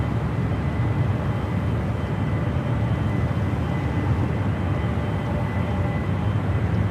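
A Star Alliance Boeing 777 departs San Francisco International for London Heathrow. A continuous, even, low jet rumble holds steady from start to finish, with no voices over it.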